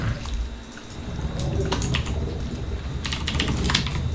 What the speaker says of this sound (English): he's got a mechanical keyboard